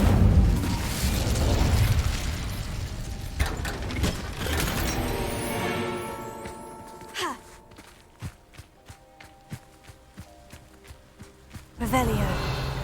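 A fire spell blast cast in Hogwarts Legacy, a loud burst with roaring crackle fading over several seconds, followed by a run of sharp clicking magical hits and a final swelling burst.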